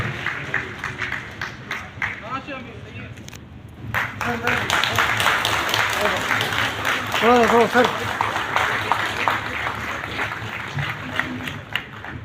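An audience at a government department's centenary ceremony claps to welcome a guest. Dense, sustained applause swells and holds through the middle while a voice speaks over it, with scattered claps before and after.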